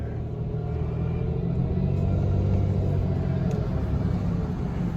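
A 6th-generation Pontiac Grand Prix drives steadily around a roundabout, heard from inside the car as a constant low engine and road rumble at moderate level, with no change in pace and no voices.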